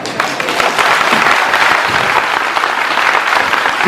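A congregation at a devotional gathering claps together in a dense, steady burst of applause, loud and close, with no voices over it.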